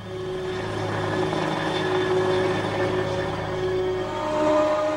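A rescue helicopter flies with a steady, loud droning engine and rotor hum that holds without a break and swells slightly toward the end.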